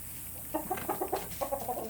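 Barnyard chickens, including a black mixed-breed hen, cluck in a quick rhythmic series of close, moderately loud clucks.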